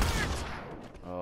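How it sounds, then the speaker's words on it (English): A tactical shotgun fires in a shooter video game, one loud, booming blast that fills the short moment and then decays into a ringing tail. "That tactical wow shotgun's outrageous. It does so much damage."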